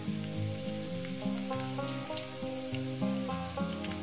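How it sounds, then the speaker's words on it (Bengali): Potatoes fry in a pan over a low gas flame, giving a soft, continuous sizzle under steady tonal background music. "এবার আলুগুলোকে আমি 3-4 মিনিট ধরে ভেজে নেব"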